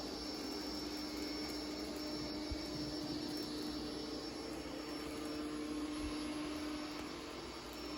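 A Bissell Spinwave robot vacuum runs with its bristles spinning, giving a steady, fairly quiet whirring hum with a faint high tone that holds constant throughout.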